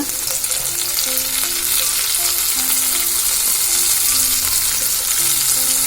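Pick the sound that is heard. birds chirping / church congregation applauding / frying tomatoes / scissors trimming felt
frying tomatoes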